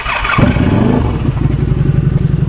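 A 2002 Harley-Davidson VRSC V-Rod motorcycle engine cranks and fires up, settling into a loud, close, throbbing idle with a steady pulsing rhythm.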